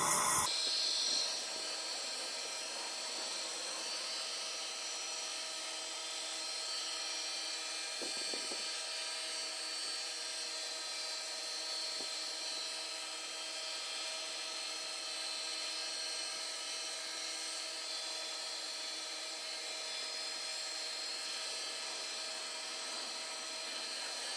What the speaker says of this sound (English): I'm going to be doing a wet sanding on this just to shine it up